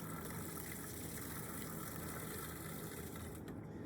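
Lukewarm water runs steadily from a kitchen tap, a faint continuous gush in a quiet kitchen while a béarnaise sauce is being thinned.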